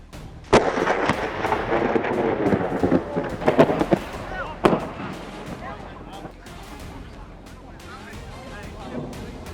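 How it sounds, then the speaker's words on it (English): Sharp, loud cracks of thunder from a lightning strike in Jackson, Texas, with several sudden booms over a rumbling background, then fading, amid crowd noise and voices. "A massive lightning bolt strikes Jackson, Texas, a movie-level moment that makes everyone jump"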